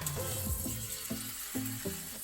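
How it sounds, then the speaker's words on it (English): Chicken breasts, halved horizontally, sizzling in a hot grill pan with olive oil: a steady close frying hiss with soft clinks of the pan underneath, no talking. "Sizzle."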